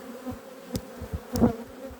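Spring honeybees milling around the hives after long rains, a constant close buzzing hum with individual bees zipping past near the microphone in brief louder passes.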